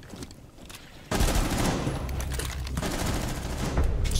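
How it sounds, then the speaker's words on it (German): Sustained automatic gunfire in the tactical shooter Rainbow Six Siege, erupting suddenly after a quiet moment and continuing as a loud, dense stream of rapid shots. "Ich muss anfangen zu schießen mit zwei Magaziner."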